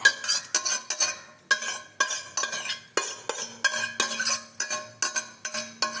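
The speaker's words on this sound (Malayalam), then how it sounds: "എല്ലാം കൂടി നമുക്ക് മിക്സ് ചെയ്തെടുക്കാം." Spoon scraping and clinking against a bowl while beetroot sugar caramel is stirred into cake batter, in a steady rhythm of sharp, close, repeated strokes with no talking.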